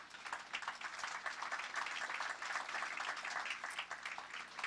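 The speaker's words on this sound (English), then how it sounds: "That's a little bit of lukewarm applause for these fantastic." Lukewarm audience applause at a young professionals rising stars awards ceremony, a steady wash of many hands clapping at moderate volume that holds evenly without building or fading.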